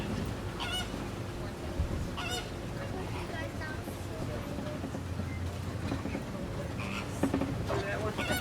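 Flamingos give repeated goose-like honks from nearby during a safari ride through an animal park, mixed with wind and the rumble of the moving vehicle.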